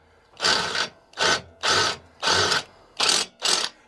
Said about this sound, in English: I just like drilling metal.